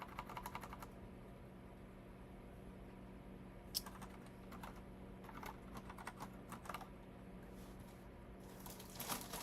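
A computer keyboard being typed on during coding practice: scattered, fairly quiet key clicks in short irregular bursts over a steady background hum, with no voices.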